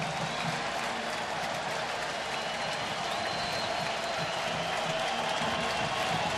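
Over 24,000 fans at a night baseball game at the stadium in Oakland roar and cheer on their feet, a dense, steady wash of crowd noise with applause and no clear single voice.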